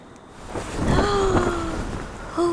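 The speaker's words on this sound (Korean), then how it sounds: "바람 시작됐다. 여기는 밤 되니까 바람이 많이 부네요." Wind gusting at night around a winter campsite with a tent, a broad rushing swell that rises and holds, with a faint whistling tone riding on top.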